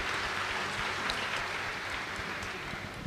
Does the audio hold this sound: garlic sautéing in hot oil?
no